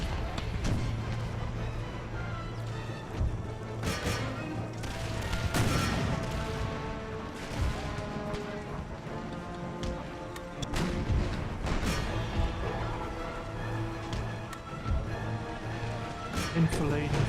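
Artillery guns firing in Empire Total War, scattered booms and crashes spread across a battle soundscape, with someone talking over the action throughout.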